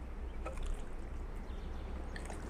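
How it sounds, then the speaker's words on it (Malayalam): Water is poured slowly by hand onto a tray of marigold seeds, making a soft, steady trickle and splash that is fairly quiet and continuous. "ഇനി ജസ്റ്റ് സാവധാനം ഒന്ന് നനച്ചു കൊടുക്കുക സാവധാനം"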